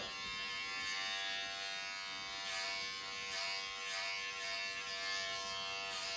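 Electric hair clippers with the blade open buzz steadily and close by while cutting a boy's hair at home, a continuous even drone with slight wavering and no talking.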